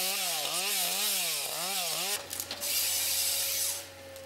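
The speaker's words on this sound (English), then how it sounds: "arrives at the site complete with chainsaw and the necessary safety equipment. The trees are felled with precision" A chainsaw felling trees during forestry thinning work revs up and down in a wavering whine, then settles into a steady, harsher cutting drone, loud and close throughout.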